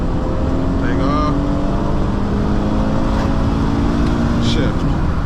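A car with paddle shifters revs loudly and steadily under acceleration from a rolling start, shifting just before 7,000 RPM, with a constant heavy drone and faint beeps and voices above it.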